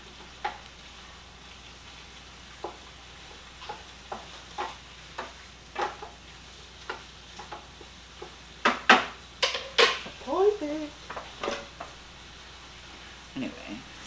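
Hot red pepper flakes stirred in a pan over medium heat, a soft sizzle underneath with scattered scrapes and taps of a utensil, growing into a busier cluster of clatter near the middle before easing off.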